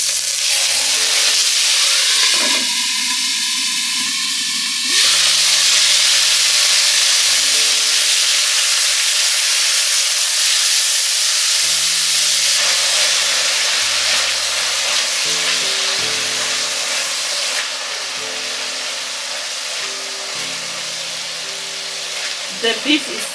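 Beef frying in olive oil in a pan for chow mein: a loud, steady sizzle and hiss with bursts of spitting, alongside intermittent talk throughout.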